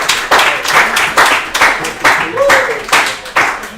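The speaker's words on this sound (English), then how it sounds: "Please give them a round of applause for Alle and Jake" A studio audience at Avicolli's claps for two guests on a Liverpool football show, uneven bursts of hand claps rising and falling in rough pulses, fairly close and loud.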